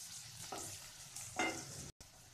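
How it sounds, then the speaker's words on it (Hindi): Onion frying over a low flame, stirred now and then: a soft, steady sizzle with a couple of brief scraping stir strokes, close and fairly quiet, no talking. "प्याज को हम लो फ्लेम पर 3 से 4 मिनट तक भूनेंगे।"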